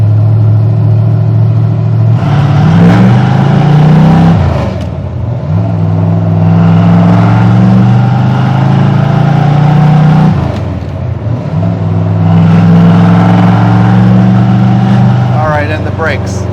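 A 1970 Ford Mustang Fastback, not fully warmed up, pulls away in first gear: a loud, close engine revs up repeatedly, rising in pitch and dropping back between shifts, droning strongly and steadily underneath.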